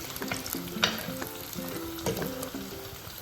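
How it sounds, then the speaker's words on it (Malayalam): A fish masala with a green chili sautés in a pan with a constant close sizzle and light stirring, while a soft melodic tune plays underneath. "ഒരു ബ്രൗൺ കളറാവുന്നത് വരെ നമുക്ക് വഴറ്റി കൊടുക്കാം"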